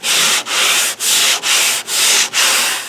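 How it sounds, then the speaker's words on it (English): 120-grit sandpaper scrubs steadily across the painted body of a 1973 Pontiac Grand Prix in six even back-and-forth strokes, loud and close, with no voices. "This is where I've sanded 120 grit, and this is where I have not yet."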